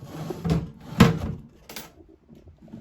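The lid and parts of a Nature's Head composting toilet are handled and opened, giving a few close plastic knocks and clunks with a sharp thud in the middle, then quieter rustling.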